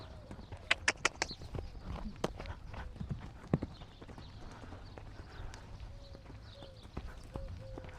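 Hooves of an Arabian endurance gelding clip-clop across hard ground during a training session, a quick cluster of loud strikes early on and then sparser, softer steps, with birds chirping faintly in the background.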